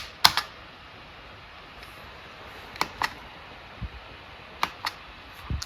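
Keys on an RGB gaming keyboard clack in sparse, irregular taps and short double strokes, close and crisp against a quiet room with a faint fan hum.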